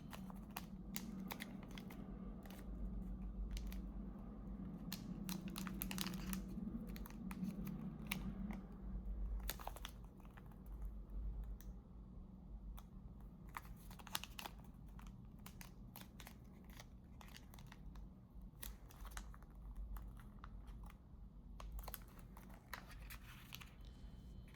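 Paper is handled and creased while folding an origami module for a Sonobe-style stellated dodecahedron, giving soft crinkles and crisp snips of pressure throughout, close and fairly quiet over a low steady hum.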